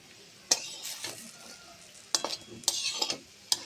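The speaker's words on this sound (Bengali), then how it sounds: "এই যে দেখুন, এক এক করে আমি বড়াগুলোকে তুলে ফেলবো।" Fried bitter gourd leaf fritters are lifted one by one from a sizzling pan, with a quiet frying hiss broken by several sharp metal scrapes and clinks of a spatula.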